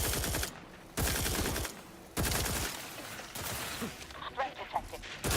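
Gunfire from a weapon in the video game Outer Worlds 2 comes in bursts of rapid shots, loud and close, with short pauses between volleys and sparser shots near the end.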